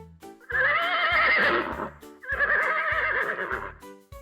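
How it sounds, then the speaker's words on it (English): A horse neighs twice, each whinny loud and close with a wavering, shrill pitch, the second slightly shorter, with no talk over it. "Horses say neigh."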